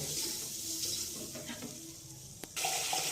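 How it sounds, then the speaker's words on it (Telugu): Tomato chutney stirred in oil in a pan over a low flame, a steady soft sizzle with gentle scraping strokes running throughout, close and continuous, with no talking. "లో ఫ్లేమ్లో పెట్టుకొని బాగా కలపాలండి."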